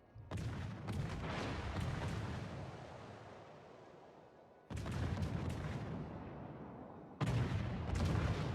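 World of Warships naval guns fire HE shells in three heavy booming salvos, each a loud blast that rolls off into a long, decaying rumble before the next one lands.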